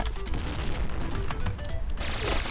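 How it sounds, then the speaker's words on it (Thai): Grenade explosion and gunfire in a shooter video game, dense booming blasts and rapid shots throughout, loud and continuous. "ระเบิดอะปาทำไม"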